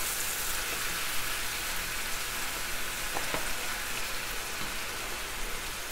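Mushrooms fry in a pan with a soft, even hiss and sizzle, and a couple of small clicks partway through.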